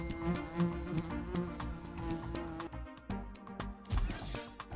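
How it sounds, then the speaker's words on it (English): A bee buzzes in the Wild Kratts Creature Power mobile game, a faint insect drone mixed under bright game music with plucked notes and percussive hits. "Uh-oh, look out for the bee."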